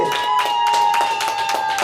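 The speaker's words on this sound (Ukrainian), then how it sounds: "ваші оплески" An audience at the finale of a concert applauds in a steady, dense patter of claps, with a sustained musical tone running underneath.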